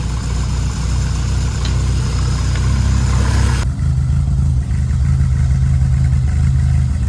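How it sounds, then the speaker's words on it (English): A Lotus Elan car engine idles steadily at close range, a low, even rumble that holds for the whole stretch without revving. "that's not a bad idle for coming straight out of the box, is it?"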